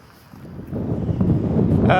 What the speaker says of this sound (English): The wind's picking up a little